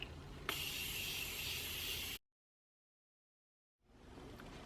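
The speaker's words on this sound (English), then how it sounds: "I am going to spray my face one last time with the continuous setting spray" A continuous hissing spray from an aerosol bottle of makeup setting spray, sprayed on a face, runs for about two seconds, then stops to silence before a softer hiss starts up again.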